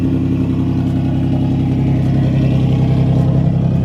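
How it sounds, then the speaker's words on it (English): Turbocharged Nissan Z car engine rumbling steadily close by, with a deep exhaust drone and light clatter held at an even loudness throughout, no voices over it. "The exhaust on this car is actually out of the turbo."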